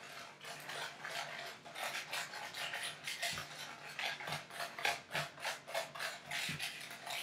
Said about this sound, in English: we'll add in our second egg. And we'll mix that fully in there.